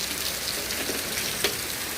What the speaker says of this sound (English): We have insane rain.